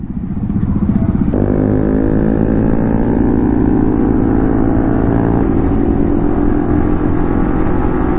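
A motorcycle riding on a road between Ranchi and Hazaribagh, its engine droning loud and close. The pitch climbs in steps as the rider shifts gears, with no talking.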